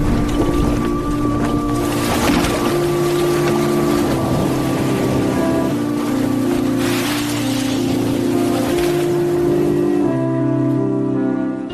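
A sailboat under way heading south across the Pacific toward the Gilbert Islands of Kiribati, with a steady rush of wind and water and a constant low hum running unbroken throughout, no voices.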